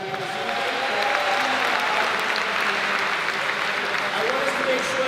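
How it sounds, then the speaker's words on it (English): Applause from an audience at an evening candidate forum for lieutenant governor, a steady wash of clapping held for about five seconds, with faint voices and tonal sounds beneath. "Give yourselves a round of applause for being out here this evening."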